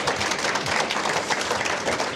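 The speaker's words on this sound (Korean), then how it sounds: "우리 세 분에게 박수 좀 부탁드리겠습니다." Brief, steady applause from an audience at a book talk and panel discussion, thanking three panelists, dense clapping throughout the short moment.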